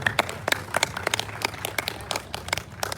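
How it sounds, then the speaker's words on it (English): Dense, scattered clapping from a crowd at the St Croix Idol 2025 singing competition, steady throughout with many sharp overlapping claps at moderate distance. "So big round of applause to all of our sponsors."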